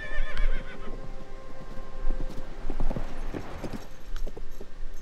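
Horse in the Tears of the Kingdom video game, trotting with clear rhythmic clip-clop of hooves and a high whinny near the start, close and moderately loud, without talk.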